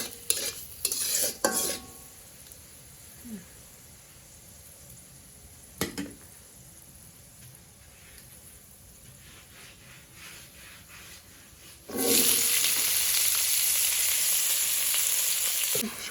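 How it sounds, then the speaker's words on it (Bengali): Vegetables with black gram dal are cooked and stirred in a pan: a few scraping, clattering stirs come first, then a quiet stretch, then a loud, steady frying sizzle for the last few seconds. Nobody talks. "সবজি রান্না করতেছি"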